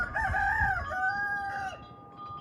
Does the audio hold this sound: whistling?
no